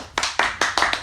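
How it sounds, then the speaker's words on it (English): A few hands in a small basketball podcast studio give about five sharp, evenly spaced claps in quick succession, close and crisp. "Round of applause."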